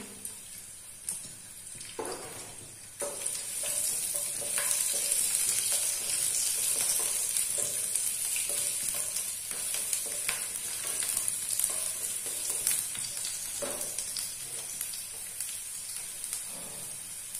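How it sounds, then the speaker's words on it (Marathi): Ginger and garlic frying in a hot pan give a steady, close sizzle with a bright hissing wash, punctuated by occasional clinks and stirring knocks, with no talking. "पॅन चालू केलाय. त्यामध्ये मी आलं टाकते, लसूण टाकते मी"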